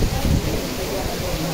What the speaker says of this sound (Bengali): বৃষ্টির আওয়াজ কিন্তু সেই দানার বৃষ্টি